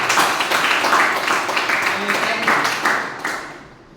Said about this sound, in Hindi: तो जोरदार तालियां होनी चाहिए